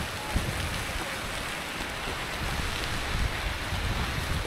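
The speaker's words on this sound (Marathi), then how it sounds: "आता भर पावसात मी शूट करतोय." Heavy rain pours steadily during a monsoon hike up Sudhagad fort, a dense continuous hiss of downpour close around the camera with no talking.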